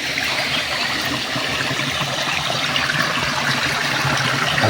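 Water runs from a water source on rural land with coconut trees, a steady rushing wash that holds even and unbroken with no voices.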